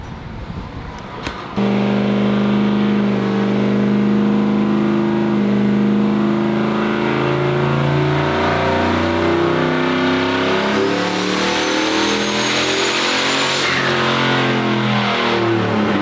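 A turbocharged car with its wastegate unhooked and boost raised revs hard on a dyno, a loud, sustained engine roar climbing steadily in pitch for about fourteen seconds after a brief quieter start.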